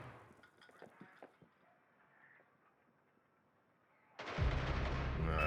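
Gunfire in Rainbow Six Siege: a few scattered faint shots at first, then a loud, sustained burst of fire erupts near the end and continues to the close.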